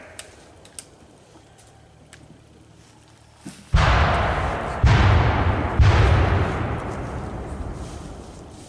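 Revolutionary War reenactment cannon fire: three loud booms about a second apart, each with a long rolling decay, following a stretch of quiet ambience with faint ticks.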